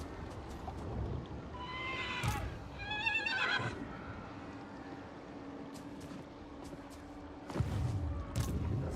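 Horse neighing in Total War: Warhammer 3, two close whinnies in quick succession over a low rumbling battlefield ambience, followed by faint background noise and a few short clattering sounds.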